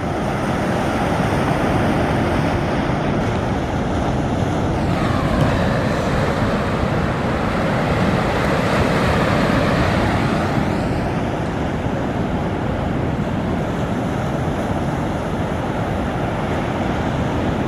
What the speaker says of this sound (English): Big wave standing up there in the,